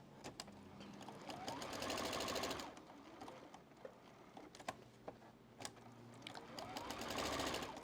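A sewing machine back-stitches along quilt lines on a beginner's mosaic block, running in two sustained bursts of rapid, near stitching with quieter ticking and shuffling in between.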